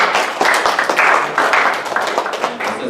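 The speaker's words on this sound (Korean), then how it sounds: "박수를 하겠습니다" A seminar audience in a lecture room breaks into brief applause, with loud, close hand claps in uneven bursts that taper off within a few seconds.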